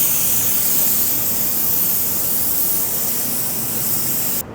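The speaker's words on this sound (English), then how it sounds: "I always like to take the air from my spray gun and blow it into my tack rack." Compressed air from a paint spray gun blows across a car panel toward a tack rag, a loud continuous close hiss that holds steadily and cuts off abruptly at the end.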